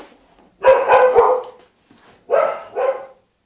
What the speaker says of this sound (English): she has got this barking whatever